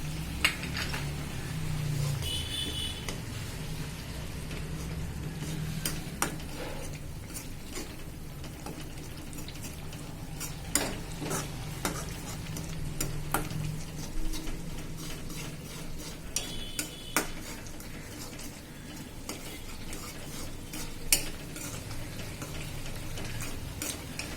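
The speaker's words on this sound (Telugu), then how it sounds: "ఈ విధంగా టొమాటో ఆనియన్ పేస్ట్ని చక్కగా వేపేసుకున్నాము" Tomato and onion paste fries in a pan for chicken fry, a low steady sizzle under repeated sharp clicks and scrapes of a spoon stirring against the metal, fairly quiet throughout.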